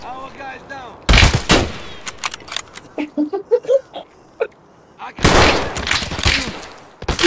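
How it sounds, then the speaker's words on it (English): Gunfire in the video game Escape from Tarkov: two long loud bursts of automatic fire open and close the stretch, with scattered single shots and sharp impacts in between and brief voices under them. "Oh, we're getting shot from the window."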